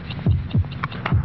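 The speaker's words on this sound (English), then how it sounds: "72 heartbeats." Heartbeat sound effect from a vintage Bufferin headache remedy TV commercial: four steady, muffled low thumps in a regular pulse, close and prominent, with no voice over them.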